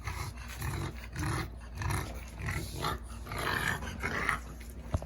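French bulldogs eating food in a dog pen, with close, repeated snorting and growly gulping in uneven bursts, loud and without any talking.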